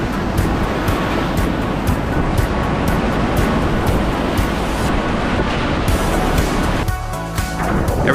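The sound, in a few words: whitewater river rapids on the Thompson River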